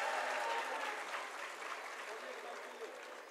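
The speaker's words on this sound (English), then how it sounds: "Loud applause, please," Parents applauding at the SHEMROCK school annual showcase, a continuous patter of many hands that starts fairly full and gradually softens, heard from some distance.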